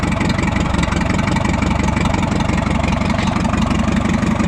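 Engine of an Oliver 60 tractor idles smoothly after new spark plug wires, a steady, loud, close low chugging with an even rapid pulse and no talk.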